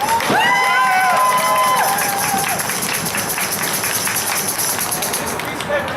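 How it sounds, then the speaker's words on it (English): A protest crowd cheers and applauds loudly and steadily, with a few shrill whistle-like tones near the start and a dense wash of clapping and shouting throughout. "give yourself a huge round of applause"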